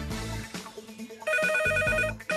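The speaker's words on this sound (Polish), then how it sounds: "Jest telefon, halo?" A telephone rings in a television quiz studio with repeated electronic bell tones, loud and close, over a brief musical sting, with no talk.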